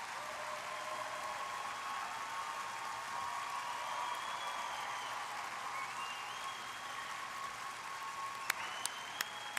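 Steady applause from the arena crowd at a women's short program figure skating competition in Halifax, held at a moderate distance, with faint commentary voices underneath and a few sharp claps near the end.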